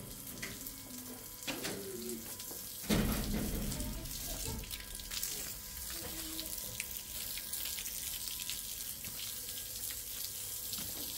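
Tap water runs into a sink for washing, a continuous splashing flow with a few louder knocks and clatters of handling, heard fairly faint and close, with a little talk in the background.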